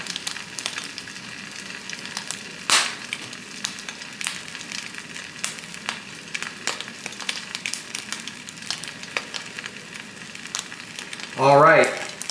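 Korean street toast topped with American cheese sizzles steadily on a hot pan, with a soft crackle throughout and a couple of brief, louder scrapes or clatters.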